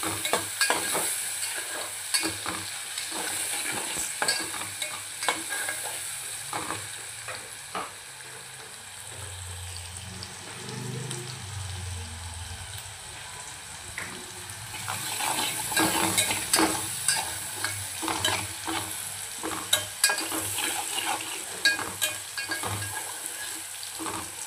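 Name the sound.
sautéing onions with salt and turmeric for mutton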